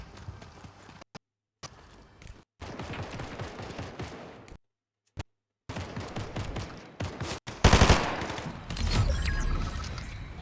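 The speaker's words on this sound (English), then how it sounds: "Somebody else sniped at me" Video-game gunfire comes in broken bursts with sniper shots and repeated cracking reports between brief silent gaps, then a loud heavy volley near the end, all fairly close.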